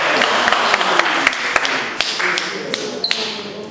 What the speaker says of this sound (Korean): 일단 박수 한번 내주세요